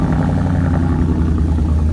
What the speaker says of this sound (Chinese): 试试这辆野马能不能发动